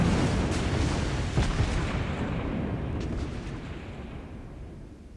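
Heavy naval gunfire from an Italian premium battleship, the Roma, in World of Warships Blitz: a loud, dense rumbling barrage that opens hard and slowly fades over several seconds, with no talk over it.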